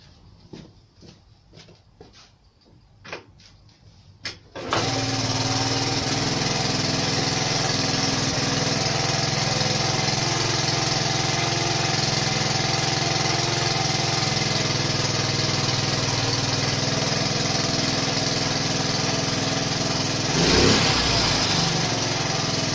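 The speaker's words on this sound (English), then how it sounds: "so it's got to be that position there to kickstart the engine." A Honda PC50 moped is kicked over a few times with sharp clanks, then its small engine catches and settles into a loud, steady buzzing idle that runs on unbroken, close by.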